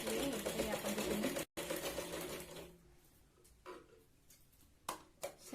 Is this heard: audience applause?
no